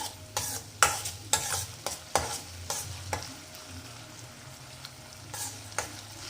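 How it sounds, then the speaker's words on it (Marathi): Garlic ginger paste sautéing in hot oil for carrot sabzi, with steady sizzling and repeated sharp scrapes of a spoon stirring against the pan, close and fairly quiet, no talk. "1 चम्मच लसूण अद्रक पेस्ट, त्याला सुद्धा आपण परतून घेऊया।"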